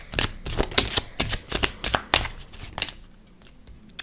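A large number of playing cards flip over in a fast, dense run of crisp slaps and riffles lasting several seconds, then trail off into a few faint taps.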